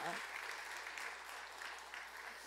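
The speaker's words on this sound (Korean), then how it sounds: "우리 한번 격려 박수 해주시기 감사합니다." A church congregation claps in encouragement, a soft, distant wash of many hands over a steady low hum, faint throughout.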